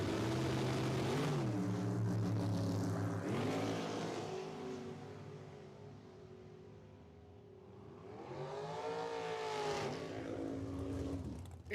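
Dragsters roar down a quarter-mile drag strip, engines revving and shifting loudly, then fading with distance before another car rises in pitch as it passes.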